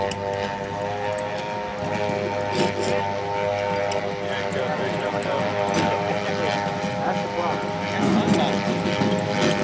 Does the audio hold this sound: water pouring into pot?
no